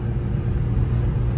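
A BMW E82 drift car with a welded differential and a new clutch doing donuts gives off a dense, steady engine rumble, loud and close, with no talk.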